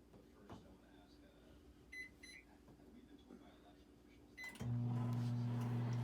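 A microwave oven softening Crisco shortening: quiet kitchen sounds and a few beeps, then the oven starts with a loud, steady electrical hum that runs to the end.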